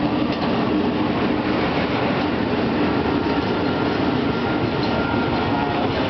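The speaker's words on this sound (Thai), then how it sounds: "รถไฟ ของสายใต้กำลังเข้ามาเทียบชัชลาครับ" Steady rumbling of a southern line train arriving at a Thai station, a continuous loud wash of wheel and carriage noise with no voices.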